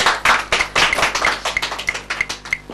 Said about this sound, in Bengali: খুলে ফেলেছেন একটি তালা জোরে হাততালি সবাই একবার